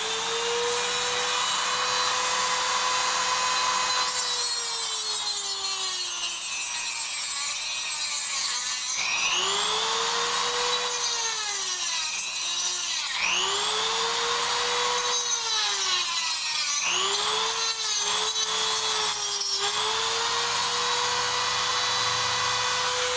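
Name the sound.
Dremel tool cutting wheel cutting firesteel handle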